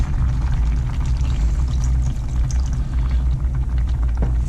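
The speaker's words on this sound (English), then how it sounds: "I might even add a little bit more water." Water poured into a simmering pot of pork adobo, a steady close pour over a low bubbling boil that runs continuously with no talking.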